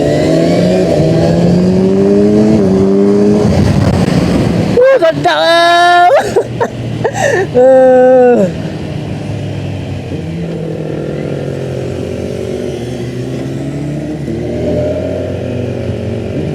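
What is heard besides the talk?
sport motorcycle engine revving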